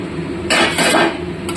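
A lid comes off a pot of rohu fish curry with a quick metallic clatter and scrape, a short close burst of rattling over a low background hum, no voices.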